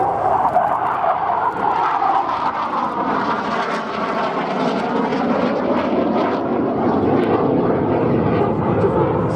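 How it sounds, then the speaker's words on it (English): A Hawker Hunter T7 jet performs a slow roll during an airshow display at Duxford, UK, its engine a steady broad roar that swells and shifts slightly as it passes. "Slow roll, illustrating there a bit of the Hunter's superb flying characteristics"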